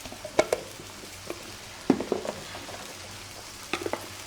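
Garlic and ginger paste frying in a pan as meat masala is prepared, giving a soft steady sizzle with a few sharper spatters and stirring clinks near the start and middle.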